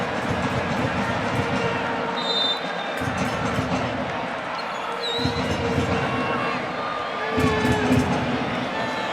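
Stadium crowd at a Real Salt Lake versus Inter friendly soccer match gives a broad, continuous roar of applause and cheering, steady and distant-sounding, swelling slightly near the end.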